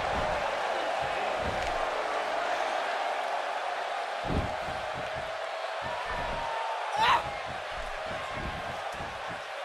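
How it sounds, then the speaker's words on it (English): Arena crowd in a wrestling video game match set in Yokohama, Japan: a steady, moderately loud crowd roar under a commentator's talk, with a few thuds from the ring and one brief sharp burst. "this crowd here in Yokohama, Japan certainly seems geared up for this one."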